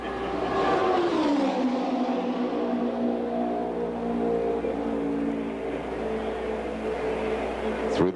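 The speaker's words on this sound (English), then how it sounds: "Janet Guthrie's on the main straightaway to complete the first lap of her 1978 qualification run" Janet Guthrie's race car thunders down the main straightaway on a 1978 Indianapolis 500 qualifying lap. Its loud, sustained engine whine drops slightly in pitch as it passes and then holds a steady roaring drone.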